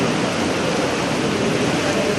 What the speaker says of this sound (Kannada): ಬೆಂಗಳೂರಿನಲ್ಲಿ ನಿರಂತರವಾಗಿ ಮಳೆ ಆಗ್ತಾನೆ ಇದೆ